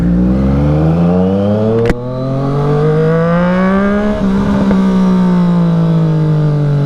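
A 2018 Triumph Street Triple RS motorcycle engine revs loudly and close by, climbing in pitch, dropping sharply and then sustaining a steady high-revving drone with no talk.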